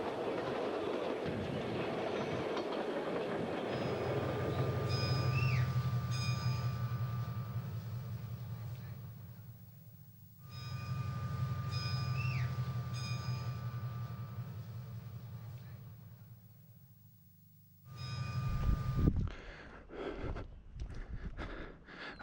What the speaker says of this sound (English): The train goes all the way until it reaches that dead end, and then it throws the switch